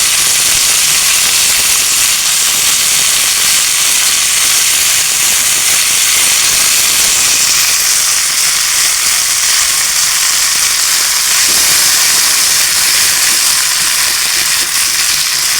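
Poduthalai leaves sautéing in a pan over a slow flame give off a steady, loud hiss and sizzle with scattered crackles, continuous throughout with no talking.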